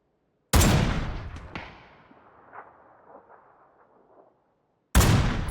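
Gunfire in the battle royale video game PUBG: two loud, sharp shots about four seconds apart, the first trailing off into a long echoing decay with faint scattered pops, no talk.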